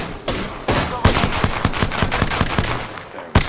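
Rapid gunfire in Apex Legends, a loud burst of closely spaced shots firing in a steady rhythm, with a few heavier reports at the start and end.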